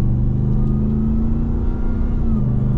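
A 2021 Ram 1500 TRX pickup with a supercharged 6.2L V8 accelerating, heard from inside the cab as a loud, steady low engine drone with a rising tone and no talk over it.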